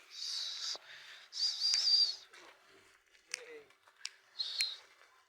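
Pigeons coo and flutter nearby in short bursts, with a few sharp clicks and taps between the calls.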